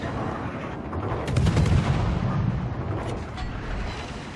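Naval guns of the USS Atlanta cruiser fire in a warship video game, with booming, rumbling salvos that swell and then fade over a dense background of battle noise.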